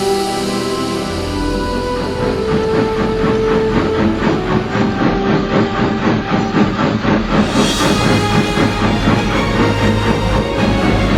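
A large blue steam engine rolls quickly over rails and crossings, a loud, steady rhythmic clatter that runs continuously from start to end with a hissing wash on top.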